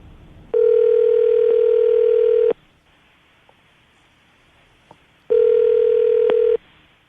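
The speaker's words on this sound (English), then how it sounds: "I'm going to dial the phone number right now" A telephone rings on the line while a number is being called, with two long, steady electronic tones about two seconds each. A few seconds of near silence separate them.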